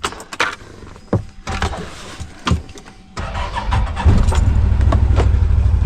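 A car's engine is started after a few key and cabin clicks and knocks, cranking then catching into a loud, steady idle close by.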